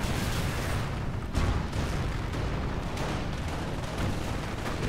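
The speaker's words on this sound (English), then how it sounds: "rifle grenade taking out his own Jeep" A rifle grenade explodes and destroys a Jeep in a World War II strategy game battle, as a dense, continuous roar of booms and rumbling battlefield noise.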